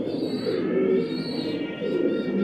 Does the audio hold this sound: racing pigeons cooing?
yes